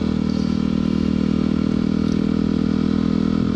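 Steady engine drone and road rumble from a motorcycle being ridden, loud and continuous with constant wind noise and no speech.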